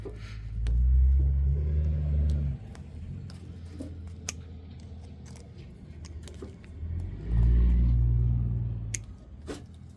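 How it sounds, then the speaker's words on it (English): Deep, heavy engine rumble rises and fades twice as a big diesel truck passes nearby, with scattered small clicks and taps in between. "And a big diesel truck."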